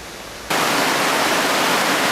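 A small waterfall in a culvert beneath Sheffield Midland railway station, bursting in as a loud, steady broadband rush of falling water after a brief quieter moment.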